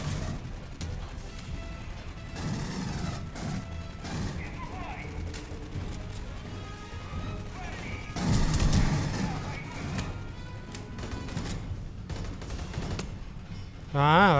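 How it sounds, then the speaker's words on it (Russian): Rapid bursts of automated turret gunfire ring out in the sci-fi shooter Aliens: Colonial Marines, crackling in clusters amid game noise and music, with a loud volley near the middle and another at the end. "Там чертова турель!"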